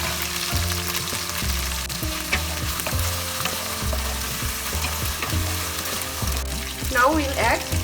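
Fried potatoes tipped into hot oil and masala for a Bengali dhokar dalna, sizzling and frying steadily close up, with rhythmic stirring knocks against the pan throughout.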